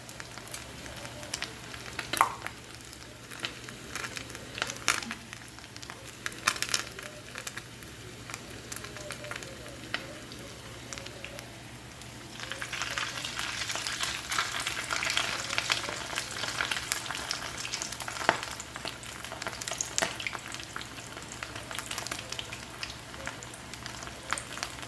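Blue corn tortilla flautas frying in oil in a pan, a continuous close crackling sizzle that grows denser partway through, with occasional pops and a person talking over it.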